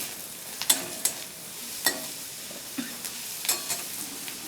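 Sliced carrot, chopped green chillies and onion fry in a pan with a soft background sizzle, broken by several sharp spatula scrapes and knocks at irregular intervals.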